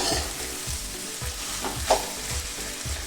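Onions fry for a Kerala-style beef pepper roast, a loud continuous sizzle broken by repeated low thumps and scrapes as a spoon stirs them around the pan.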